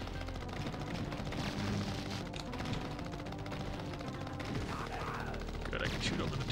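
Rapid gunfire from the arcade shooter XenoCrisis runs steadily throughout, dense and loud, with game music and effects layered underneath.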